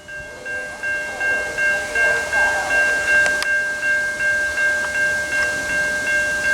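An Amtrak 75 passenger train approaches and rolls past a trackside spot in North Carolina, a steady, loud, rhythmic clatter of wheels with sustained horn tones ringing over it, with no voices.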